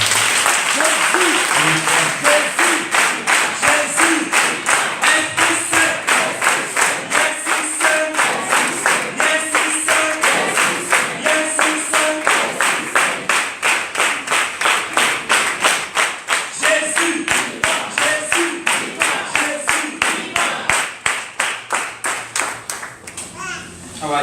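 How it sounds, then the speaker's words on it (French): Church congregation clapping in steady, rhythmic unison after a sermon, loud and close, sustained for a long stretch with voices mixed in, including children. "Applaudissez la parole."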